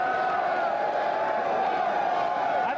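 A crowd cheers at an NCAA basketball game, a steady, dense roar of many voices that holds at an even level throughout.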